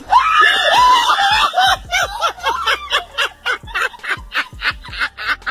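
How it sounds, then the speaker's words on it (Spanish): A man screams in panic at a squirrel, long shrill wails breaking into rapid gasping yelps and choppy cries, loud and close, with no other voices. "Tampoco hay que poder gritar como un loco."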